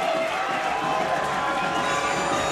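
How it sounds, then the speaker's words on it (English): A baseball crowd roars steadily in a stadium as the Cardinals load the bases, a dense sustained wash of cheering that holds at an even level for the whole stretch. "Crowd is fired up, and the Cardinals have loaded the bases for the first time tonight"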